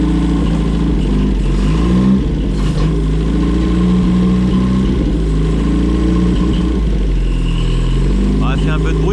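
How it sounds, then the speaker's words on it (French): A 1967 Toyota Corona RT40 engine runs loud and close, with steady low engine harmonics and revs rising and falling throughout, and a voice talking over it at times. "Je vais juste me payer un petit démarrage pour le plaisir."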